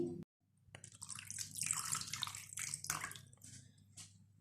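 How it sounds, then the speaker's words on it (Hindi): Cold water poured into a pot over raw chicken leg pieces in a home kitchen, a steady splashing gush that rises and wavers for a few seconds before tapering off, close and fairly quiet. "ठंडा पानी डालकर इतना डालेंगे कि लेग पीसेस हमारे बीच में कवर हो जाएं।"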